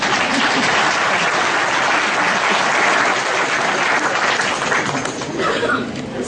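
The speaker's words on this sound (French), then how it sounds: "Applaudissez-vous." A hall full of Sonatel workers at a New Year's greetings event claps loudly and steadily, with a few faint chuckles mixed in as the applause eases slightly near the end.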